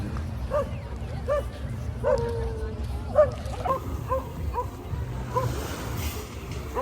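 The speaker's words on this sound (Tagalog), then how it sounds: "Laki nitong asong to." A big dog barking on a street in El Nido town proper, Palawan, at night: a series of short, evenly spaced barks and yips, moderately close, over low background noise and voices.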